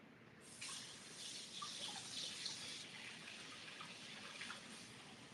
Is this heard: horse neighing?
no